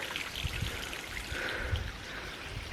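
An outdoor stream babbles and trickles as water pours out from the fields, a steady close rush with small splashing pulses and no talk.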